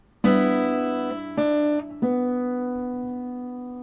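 Open first and second guitar strings from the intro riff ring out as three plucked notes, each decaying slowly, clear and close with no talking.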